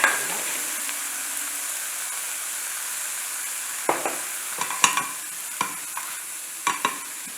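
Grated coconut is lightly sautéed and stirred in a pan on the stove, giving a soft, steady sizzle with a few sharp clicks and scrapes of the spoon in the second half, with no voices.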